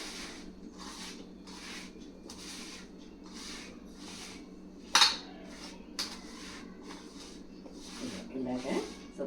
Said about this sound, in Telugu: మనం ఆవకాయ కలుపుకున్నట్టుగానే ఈ ముక్కలు ఇలా కలిపేసుకోవాలి.